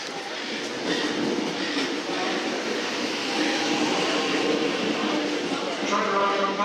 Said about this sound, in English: train arriving on platform 9